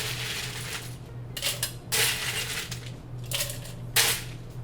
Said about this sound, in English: And we'll add some ice to our shaker.